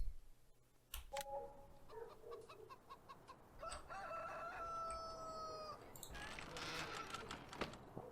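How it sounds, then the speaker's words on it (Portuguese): Chickens cluck and a rooster crows in the farm video game Farming Simulator 19, the calls repeated and fairly faint over steady background ambience. "Mas agora temos mais galinhas."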